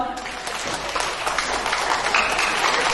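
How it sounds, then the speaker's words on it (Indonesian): An audience in a seminar hall claps in a dense, steady burst of applause lasting a few seconds, loud and close, with some voices mixed in. "Tepuk tangan dong buat kita semua."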